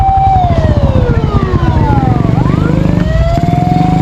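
A fire truck siren wails loud and close while a house fire burns nearby, its pitch sweeping down and rising again in long, continuous cycles over a low engine rumble.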